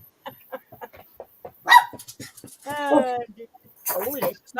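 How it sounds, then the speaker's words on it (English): A dog barks several times in short yips and whimpers, fairly close, while people talk over and between the barks. "Is that Rosie barking?"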